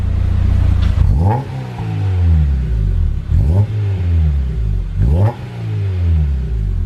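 A car engine revs hard three times, each rise falling back to a rumbling idle, with a sharp exhaust pop after the revs.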